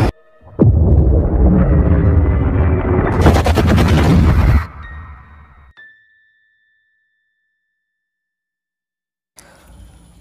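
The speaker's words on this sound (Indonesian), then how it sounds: "Dan ia pun langsung mengaktifkan inti nuklir dan energi stasiun Roebuck, dan mereka pun meledak seketika." The Roebuck station's nuclear core explodes in a sudden, loud, roaring blast with crackling debris. It cuts off abruptly into a fading rumble and a lingering electronic tone, then near silence.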